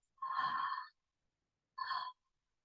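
Two whispered open-mouthed "ha" exhalations during a yoga pranayama breathing exercise, the first long and the second shorter, close and soft with silence between them.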